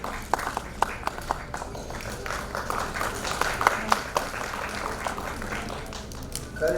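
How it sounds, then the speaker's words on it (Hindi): Scattered hand clapping from an audience at a Marwari community talent award ceremony in West Bengal, moderately loud and uneven, with a steady murmur of voices in the hall. "धीरे धीरे तालियों की ध्वनि कम होती जा रही है।"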